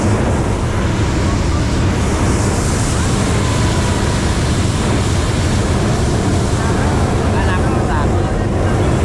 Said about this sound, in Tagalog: Kasi mahangin na sa taso.